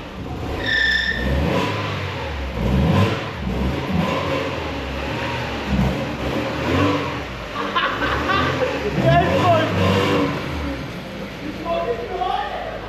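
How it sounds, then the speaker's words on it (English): A Mazda MX5 MK1 engine revs and pulls away as the car drives forward, engine surges rising and falling close by, with people talking and laughing over it. "We're just going to give it a wee drive forward."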